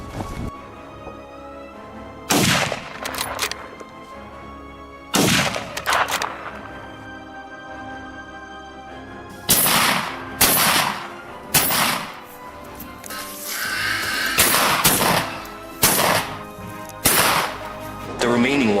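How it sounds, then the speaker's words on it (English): Hunting rifles fire during a wild boar hunt on snowy hills, sharp broadband cracks recurring irregularly through the stretch, a few isolated and some in quick clusters, loud and close over a steady outdoor background. "After a crisp gunshot, 3 more wild boars were taken down."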